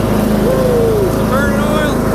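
A riding lawn mower runs steadily while mowing sandy ground, its engine droning loud and close throughout, with a voice speaking briefly over the motor.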